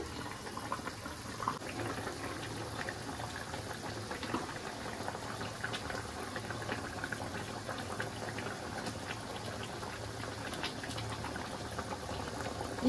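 Spicy katla fish curry with drumsticks bubbling in a pan, a faint, steady simmering burble heard up close with no talking.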